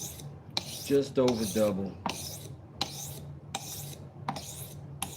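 A knife is stroked across a 400 grit whetstone in a series of short, rasping scrapes at a steady rhythm, close and fairly quiet, with a brief spoken phrase in between.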